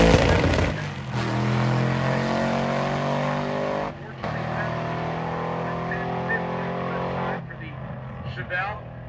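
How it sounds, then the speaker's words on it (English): A 1972 Pontiac Ventura makes a drag racing run at a Sick Summer radial event, its loud engine roaring through several rising gear pulls with brief breaks between shifts, with a commentator talking over it. "That is a Pontiac Ventura of Corey Lagasse."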